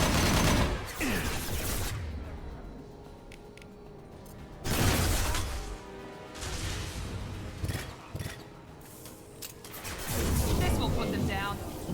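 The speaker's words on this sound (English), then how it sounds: "Firing an impact shot" Impact shot gunfire in Mass Effect 2, several loud sharp blasts spaced apart across the clip with echoing tails and a quieter stretch of combat noise between them.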